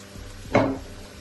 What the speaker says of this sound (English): So after which I'm gonna get the chunks in with the onions.